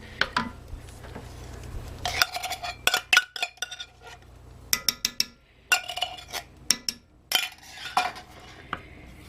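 Cheddar cheese soup going into a casserole dish brings repeated clinks and scrapes of a utensil against cookware, with short pauses between the knocks.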